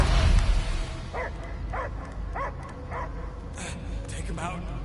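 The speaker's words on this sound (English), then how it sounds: "I hear only barking." A dog barks in a run of four or five evenly spaced yips and whimpering barks from the Guardians of the Galaxy game, heard over low rumbling background and a voice.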